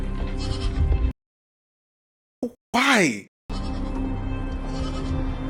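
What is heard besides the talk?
goat bleating in a TV show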